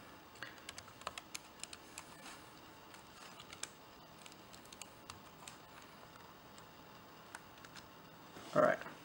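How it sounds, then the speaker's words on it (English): Light, close computer keyboard keys click in short bursts as a username is typed, ending in a brief louder sound. "So let's type the username, which in this case the username is for me."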